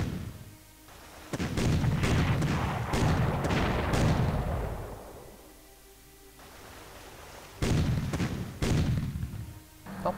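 Artillery and gunfire from the Panzer Corps war game, heavy booming volleys and bursts of shots with a quieter lull in the middle before more blasts, loud and close.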